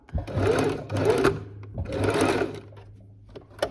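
A sewing machine stitches two pieces of bias tape together in straight lines. Its motor whirs loud and close in three bursts separated by short pauses, then a brief click at the end.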